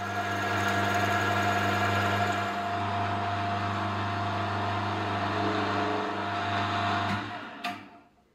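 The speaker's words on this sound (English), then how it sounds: "I'll be drilling and reaming this hole to 8mm in diameter and about 10mm in depth" A metal lathe drills and reams an 8 mm hole about 10 mm deep in a vise stop part, a steady loud machine hum with strong low drone that runs continuously, then winds down near the end.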